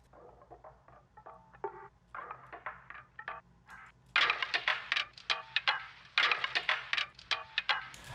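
A drum group of layered percussion hits in a produced music track, crisp snappy strikes in quick rhythmic patterns that grow louder and denser halfway through, with no voices.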